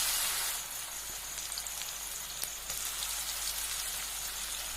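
Cabbage snacks dropped into hot oil give a steady, dense crackling sizzle, close and even throughout, with no voices.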